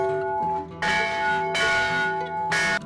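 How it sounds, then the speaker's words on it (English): A McShane bell cast in 1898 rings out in three strong, resonant strikes, each sustained hum and shimmering overtones swelling and decaying between blows, loud and close with no voices. "So this bell's from 1898."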